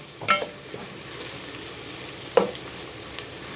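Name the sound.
sautéing sliced green chillies in a pan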